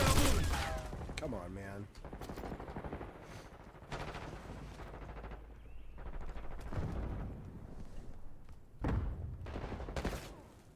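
A concussion grenade detonates in a first-person shooter amid bursts of gunfire, with loud booming blasts spread across the clip and someone talking over the action.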